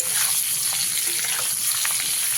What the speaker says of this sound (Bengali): এবারে খুব ভালো করে ওলগুলোকে লাল লাল করে ভেজে নিতে হবে